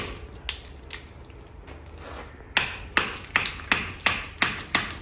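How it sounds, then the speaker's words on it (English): A chisel chips plaster off a positive plaster cast with sharp, close knocks, first sparse, then a steady run of about eight evenly spaced strikes in the second half. "And what you want is you chisel and at some point you break it off."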